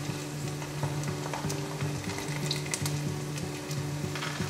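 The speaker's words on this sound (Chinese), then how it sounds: "油热了放进来， 先让它慢慢的煎" Carrot slices fry in hot oil in a pan, a close, steady sizzle and crackle with occasional scraping and stirring, continuous throughout with no talk.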